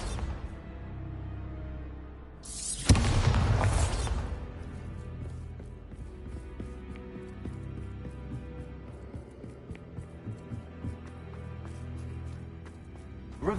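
A Bombarda explosion spell in Hogwarts Legacy detonates in one sharp, booming blast, followed by a long stretch of quiet ambient rumble with scattered small clicks and knocks.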